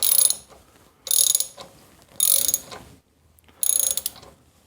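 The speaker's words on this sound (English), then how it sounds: "it's definitely cutting a new thread" A thread repair tool cuts a new spark plug thread in a stripped hole, giving four bursts of crisp metallic ratcheting and scraping separated by short pauses, close up with no voices.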